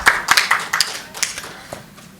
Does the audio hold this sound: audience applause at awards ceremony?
yes